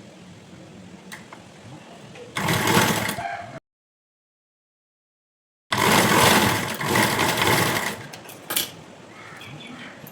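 Sewing machine stitching puff sleeve fabric and lining, running in two loud bursts separated by a silent gap, with a brief whirring stop-start near the end.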